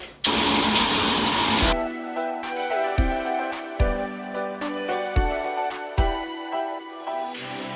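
Water pours steadily from a bathroom shower, loud and continuous for the first couple of seconds, then a quieter broken stream with splashing and dripping against the floor and body.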